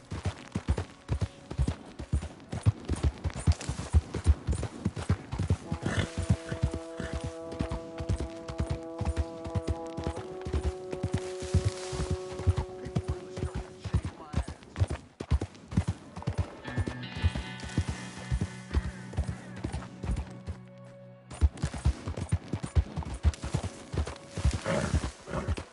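Horse hooves clip-clop at a steady gallop in the open-world Western game Red Dead Redemption 2, a continuous rhythmic beat running the whole time under sustained game music, with an occasional whinny and no talk.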